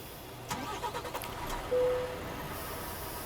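A Volvo FH 540 truck from Euro Truck Simulator 2 starts up, with a few clicks and a cranking burst settling into a steady, moderately loud idle.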